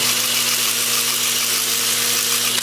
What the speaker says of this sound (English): In fact, I may sand this whole thing with the Sandoflex